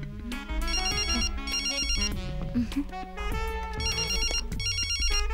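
A phone ringtone plays repeatedly in bright melodic bursts, loud and close, looping several times without pause.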